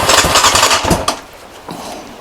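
A small engine cranks and catches, then runs with a rough, throbbing chug that settles to a quieter idle, close and loud with no talk.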